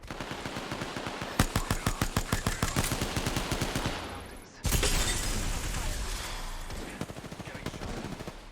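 Rapid automatic gunfire in a first-person shooter video game, a fast rattling burst of shots with cracking impacts, a sudden cut, then a second sustained barrage with sharp pops, loud and close.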